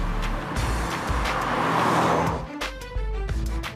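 An Austin MG Montego Turbo from around 1992 drives along, its engine note rising and falling steadily and close, with a brief dip partway through before it pulls on again.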